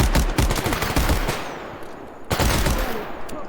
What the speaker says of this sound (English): Now I got 2 shots in with a scorpion.